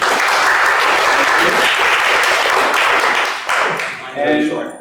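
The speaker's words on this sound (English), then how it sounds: "Round of applause to Raymond, please." An audience at an enterprise sales event gives a loud round of applause for a speaker, dense clapping that thins toward the end as a voice begins to talk.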